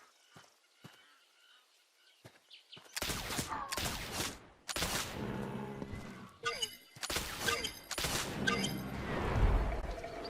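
Shots fired while hunting in The Oregon Trail video game come in a run of loud, sharp blasts after a quieter start, repeating irregularly with game effects sounding between them.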